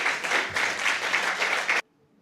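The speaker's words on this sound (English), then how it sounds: "if you want to give a round of applause" An audience at a local candidates forum claps in a dense, steady burst of applause that fills the room, then cuts off abruptly into near silence.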